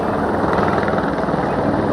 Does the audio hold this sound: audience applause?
no